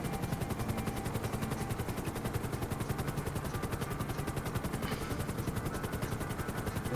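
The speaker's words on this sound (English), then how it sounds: "the Havoc is one of the fastest helicopters in the game" A Havoc helicopter in GTA Online flies with a fast, steady rotor chop that pulses evenly throughout, loud and continuous, with no voices.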